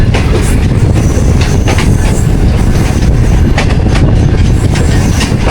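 The Green Line Express pulling into Noor Junction, Pakistan: loud, close rumble of rolling wagons with rhythmic wheel clatter and faint squeal, steady throughout.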